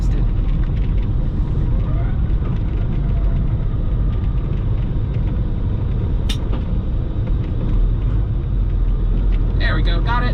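Truck engine running in a cab on a Wichita freeway, shifting gears: a steady loud low rumble and road noise continue throughout, with a driver talking over it and a brief hiss near the end.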